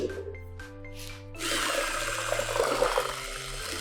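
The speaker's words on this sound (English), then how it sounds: "Now I will pour the sunflower oil" Sunflower oil, 250 ml, pours into carrot cake batter in a running mixer, a soft steady wet swish and slosh layered over the whir of the machine, following a few short mechanical tones.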